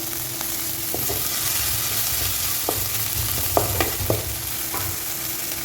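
Oil hisses and sizzles steadily in a hot kadai while kadai chicken cooks, with a few sharp clinks and scrapes of a spoon against the pan scattered over the constant frying noise.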